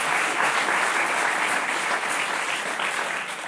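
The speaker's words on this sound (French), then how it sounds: "Sous vos applaudissements, mesdames et messieurs" Loud, dense applause from a television talk-show studio audience fills the whole stretch steadily, with no voices on top.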